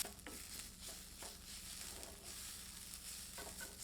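Onions frying in a little oil in a pan, a steady close hiss of sizzling with a few faint stirring scrapes and no talk.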